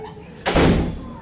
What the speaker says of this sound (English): just shut the door, please